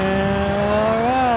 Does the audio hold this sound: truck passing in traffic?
yes